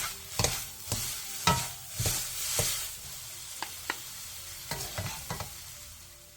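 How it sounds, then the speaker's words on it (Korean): Shredded dried pollock is stir-fried with perilla oil and sesame seeds, with a soft sizzle under repeated scraping strokes of a spatula against the pan in an irregular rhythm; no voices. "매실액 3분의 2스푼, 들기름 1티스푼, 통깨를 넣고 1분 정도 가볍게 더 볶아 마무리해주세요"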